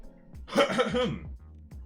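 A single harsh throat clearing, close and fairly loud, lasting under a second, with quiet before and after.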